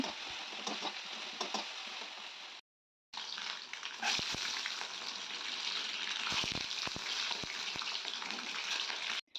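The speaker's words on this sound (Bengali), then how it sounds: "আর ভেজে এর মধ্যে দিয়ে দেবো একটু আদা রসুন আর লঙ্কা গুঁড়ো হলুদ গুঁড়ো তো এটাকে দিয়ে আমি খুবই ভালোভাবে কষিয়ে নেবো" Ginger, garlic, chilli powder and turmeric frying in a pan for a potato and pointed-gourd vegetable curry: a dense, loud, hissing sizzle that cuts out briefly, then resumes with occasional knocks of stirring.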